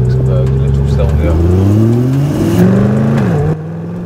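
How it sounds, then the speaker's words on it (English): A Corvette C8 Stingray's exhaust roars loud and close on a mountain road in Luxembourg, climbing through rising gear pulls with shifts between them before dropping off at the end. "I know, the mic was attached to the exhaust instead of me."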